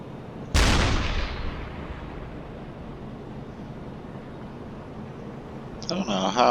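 A U-boat deck gun in a video game fires once at convoy ships in a 1941 Atlantic attack: one loud, sharp blast whose rumbling tail fades over several seconds, then a brief noisy burst near the end.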